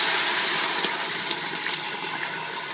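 Hot water is poured into a pot of meat browned on both sides for tortas ahogadas, making a steady, close rushing splash that tapers off slightly, with no talking.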